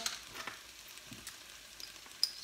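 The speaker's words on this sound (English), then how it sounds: "just on a gentle heat, and we'll throw in the mushrooms" Mushrooms frying gently in a pan over low heat, a soft, quiet sizzle with faint crackles and a few light stirring clicks, no voices.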